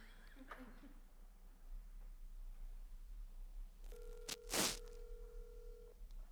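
A telephone line heard while making phone calls gives a steady electronic ring tone for about two seconds. A sharp burst cuts in partway through, over a faint background hum.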